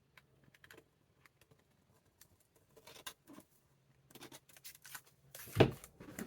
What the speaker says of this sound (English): I said I would just cut those off